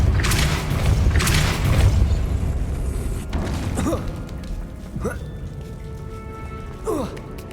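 A Depulso spell is cast in Hogwarts Legacy, producing loud whooshing magical blasts with booming impacts, followed by several shorter swooping zaps spaced a second or so apart over game ambience.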